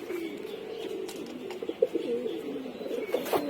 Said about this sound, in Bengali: তার কবুতর এগুলো।